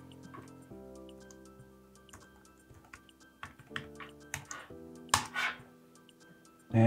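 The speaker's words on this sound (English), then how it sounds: "you're going to have to type in your password" Someone types a password on a Mac computer keyboard, producing a string of light, irregular key clicks over a faint steady hum. A sharper cluster of clicks comes near the end, and nobody speaks.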